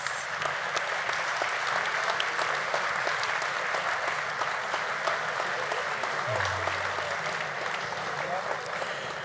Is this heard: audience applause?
yes